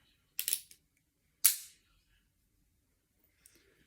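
A gun's hammer is decocked, giving a short metallic click cluster followed by a single sharp thud, both close and crisp against near silence, with a faint tick at the end.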